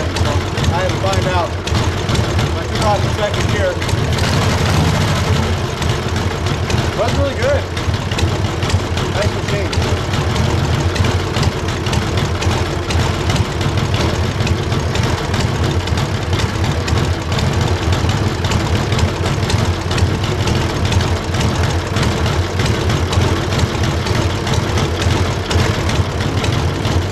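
A 1945 Harley-Davidson Knucklehead bobber idles nearby with a steady low, lumpy rumble that continues throughout, while people talk over it.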